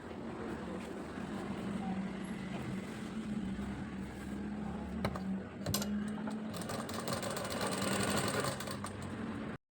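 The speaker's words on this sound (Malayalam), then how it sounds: "ഇനി അതിൻ്റെ അടിഭാഗത്തേക്ക് വരുന്ന പ്ലീറ്റ് അടിച്ചു കൊടുക്കാം." A sewing machine stitches a pleat into a churidhar lining with a continuous faint, low motor hum and needle whir, growing slightly louder near the end before cutting off.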